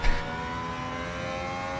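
A very quick race car in Gran Turismo 7 (update 1.35) accelerates with a loud whining engine note that holds steady after a brief burst at the start.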